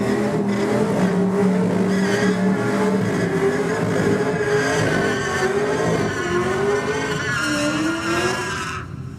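A Holden GTS Commodore screams past at Sydney Dragway with a loud, high-revving engine and tire noise, its pitch rising and shifting as it accelerates, then cutting off abruptly near the end.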